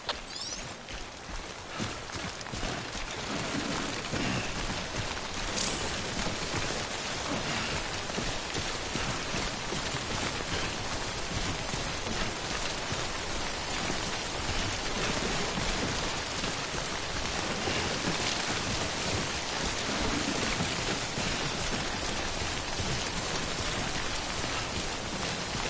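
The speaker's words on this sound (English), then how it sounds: "Don't stay out in the rain any longer than you have to." Steady, dense rainfall from the timefall storms of the PS4 game Death Stranding patters continuously for the whole stretch, with faint rumbles of thunder underneath and no voices.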